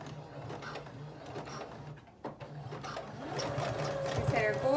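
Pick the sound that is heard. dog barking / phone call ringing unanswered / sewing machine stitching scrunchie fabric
sewing machine stitching scrunchie fabric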